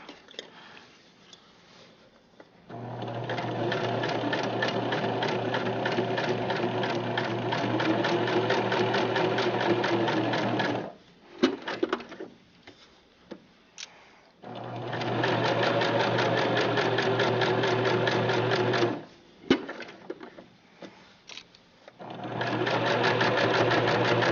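A sewing machine stitches a fabric bunny stuffed animal around a curve, running steadily in two long, close, continuous bursts separated by brief pauses with light handling clicks.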